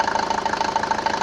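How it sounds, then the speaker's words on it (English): A Mercedes-Benz W124 engine idles just after starting during a radiator hose job, giving a steady, even mechanical beat up close that runs without a break. "So okay, now I've started the engine."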